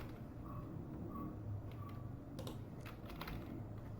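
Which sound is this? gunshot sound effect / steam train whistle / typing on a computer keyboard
typing on a computer keyboard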